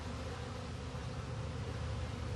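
A dense, steady buzz of honey bees flying around a beekeeper standing in their flight path by the hive, a faint, even, noisy drone with no individual passes standing out.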